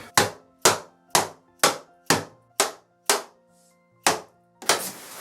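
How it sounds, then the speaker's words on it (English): Hammer blows strike a 1950s school desk to free its nails, about nine sharp wooden thunks in a steady rhythm, close and loud, with a brief pause before the last two knocks. "by doing that hammering, it's lifted some of these nails"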